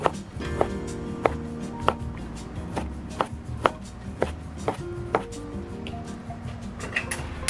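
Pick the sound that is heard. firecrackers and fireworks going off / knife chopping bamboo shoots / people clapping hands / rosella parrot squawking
knife chopping bamboo shoots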